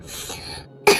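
A single sharp cough bursts out near the end after a moment of low background noise.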